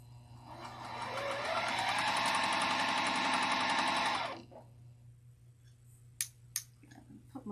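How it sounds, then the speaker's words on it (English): Sewing machine stitching a quarter-inch seam, worked by foot pedal while standing, with a steady close whirring run of about four seconds that stops abruptly, followed by a few soft clicks and handling taps over a low hum. "I think I've kind of mastered the sewing while standing"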